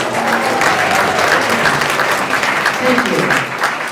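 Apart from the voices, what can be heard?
audience applause for veterans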